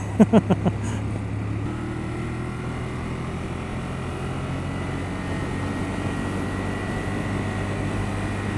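A 2014 Ducati Monster 1200 motorcycle cruising at speed in touring mode, its steady engine drone and wind rush running continuously after a few brief taps at the start, with no talk.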